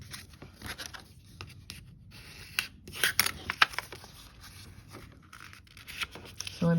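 Heavily patterned paper is folded by hand along scored lines for a mini notebook, giving soft, irregular crinkles, creases and light taps up close over a quiet room.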